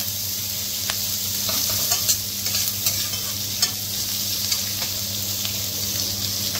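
Chopped onions frying in a pan for a Goan rohu fish curry, a steady close sizzle broken by irregular scraping stirs over a low, constant hum.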